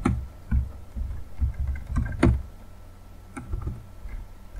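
Computer keyboard keys tapped in short irregular bursts of clicks, close and fairly quiet, with pauses between groups.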